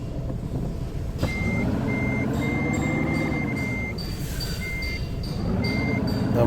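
A truck in a driving video game backs up with steady, evenly spaced reversing beeps over a deep, rising and falling diesel engine drone.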